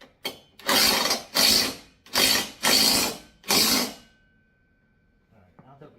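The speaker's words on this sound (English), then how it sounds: "So let's just finish drilling this in a little bit further." A power drill whirs in five short bursts, close by, drilling into a wall to mount a pull-up bar, each a second or so of buzzing with brief pauses between.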